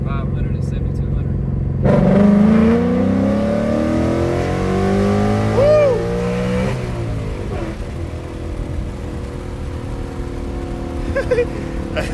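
An E85-tuned Ford Mustang revs hard through second and third gear, the engine note climbing loudly, shifting, then settling into a steady drone, with people talking nearby.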